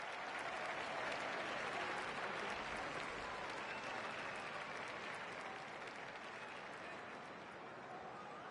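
Steady applause from a stadium crowd in the Don Bradman Cricket video game, a dense, continuous clapping wash that holds for several seconds and eases off slightly toward the end.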